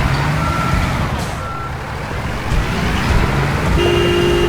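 Repeated electronic reversing beeps from a truck in the game Construction Simulator, loud and steady over a low engine rumble, with no talking.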